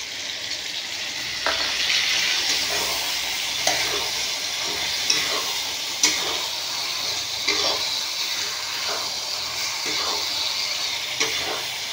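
Ridge gourd and okra fry and sizzle in mustard-poppy paste with green chilli, a steady hiss broken by repeated scrapes of a spoon stirring through the pan, close and continuous with no talk.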